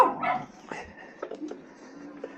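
Dogs bark and yip a few times on a wooded trail during an e-bike ride, the sounds brief, fairly close and scattered across a couple of seconds, with a faint human vocal sound at the start.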